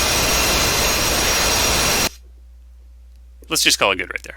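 The roar of an F/A-18 Hornet jet rolling down a runway in the DCS flight simulator, a loud, dense broadband rush that cuts off abruptly into near silence, followed by someone speaking.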